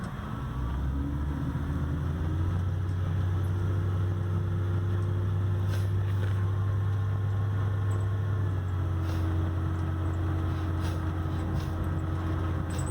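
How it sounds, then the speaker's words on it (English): A steady low engine hum inside a moving 1971 Lincoln Mark III, with a faint, muted power steering pump whine sustained underneath throughout. "I don't know if you can hear a very muted kind of a whine. That's the power steering pump."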